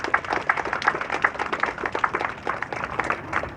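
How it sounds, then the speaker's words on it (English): Small crowd at a community space grand opening on Skid Row claps in a brisk, fairly sparse pattern, individual hand claps audible, steady throughout at moderate distance. "let's give yourselves a big round of applause one more time"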